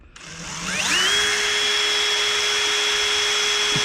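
A power drill spins up with a rising whine, then holds a loud, steady high-pitched hum for several seconds before winding down at the end.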